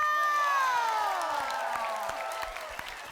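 Studio audience applauding and cheering for a band on a variety show, a dense burst of clapping and whoops that slowly fades, with sustained musical tones ringing underneath.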